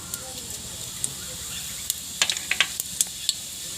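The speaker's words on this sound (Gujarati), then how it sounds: "તો તેલ ગરમ થઈ ગયું છે તો પહેલાં આપણે જીરું નાખી દેવું" Cumin seeds sizzle in hot oil with a quiet steady hiss, broken by a scattered run of sharp pops and crackles that cluster toward the end.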